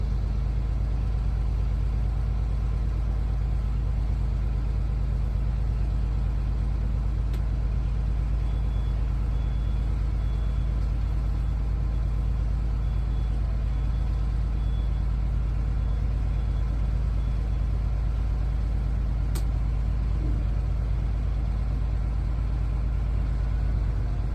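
A school bus engine idles steadily while building brake air pressure, a continuous low rumble that holds unchanged throughout with no talk.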